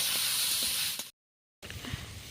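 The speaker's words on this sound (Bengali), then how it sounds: "এবার আমি ভালোভাবে ভেজে নিচ্ছি" A steady hiss of shrimp sizzling in a hot pan, cut off by a brief moment of silence before the sizzling resumes.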